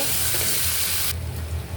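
Onion, green chilli and ginger-garlic paste sizzle and crackle steadily in oil in a pan, a continuous close frying hiss with some stirring, no voices.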